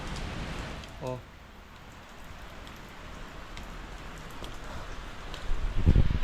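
Soft, steady hiss of light rain falling outdoors, with a brief voice and a few faint clatters nearby.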